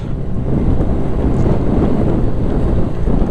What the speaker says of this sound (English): Oh, it's very windy and cold.